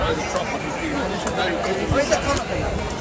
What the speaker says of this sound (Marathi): तुम्ही केवढी गर्दी आहे इथे फार गर्दी आहे